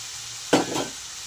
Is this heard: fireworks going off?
no